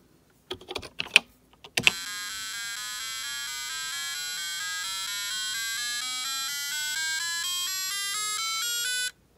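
A vintage vTech Precomputer 1000 runs a simple BASIC music program, giving a steady electronic beeping tone that steps upward note by note, loud and alone. A few keyboard clicks come just before it starts.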